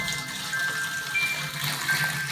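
Spring water poured into a pot for brew-in-a-bag beer brewing, a soft, steady splashing gush, faint and continuous.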